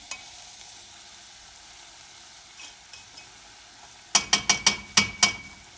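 Tomato paste fries with onion and minced meat for a spinach-root dish from Adana: a low, quiet sizzle, then a quick run of six sharp scraping strokes as a utensil works the pan near the end.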